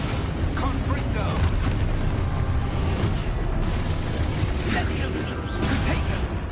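A Confringo blast spell in Hogwarts Legacy sets off booming, crackling explosions one after another, loud and close, with a voice speaking over the blasts.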